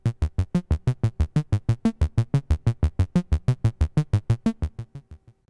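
A Buchla modular synthesizer's sine-saw oscillator, frequency modulated by a function generator, pulses in a steady rapid train of about two dozen buzzy, harmonically rich tones. The pulses are loud and even, then fade out at the end.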